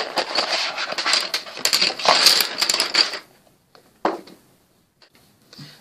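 Forty-eight colored pencils dumped out of a popcorn container clatter and rattle together in a dense burst for about three seconds, close and loud, then a few lone clicks and taps follow.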